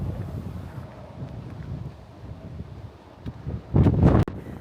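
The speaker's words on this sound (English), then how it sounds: "The wind was relentless, just wouldn't stop" Strong, relentless wind blowing beside a two-lane highway, a continuous loud rumble buffeting the microphone, with a harsher gust surging near the end.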